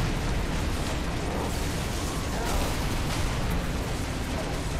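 A dense, roaring burst of noise from a Banshee bomb blast in the Halo: Reach video game, loud and sustained with rumbling texture throughout and no speech.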